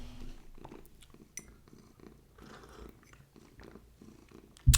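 A kitten purrs softly and close, a low rhythmic rumble with faint chewing-like clicks, ending in a sudden loud bump.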